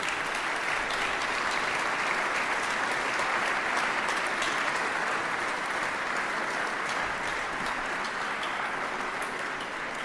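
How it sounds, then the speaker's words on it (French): Sustained applause from a large congress audience at the opening of an international lawyers' congress in Budapest, a dense continuous clatter of many hands clapping, steady and loud throughout with no speech over it. "Voilà, applaudissez-les."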